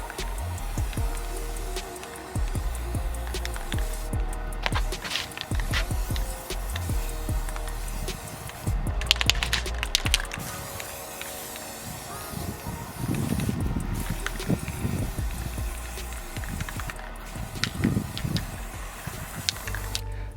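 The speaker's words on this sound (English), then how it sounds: "And we're just gonna spray it." Satin Granite spray paint hisses from an aerosol can in bursts across about twenty seconds, coating a homemade spice container, with rustling, handling noises and brief quiet gaps between sprays.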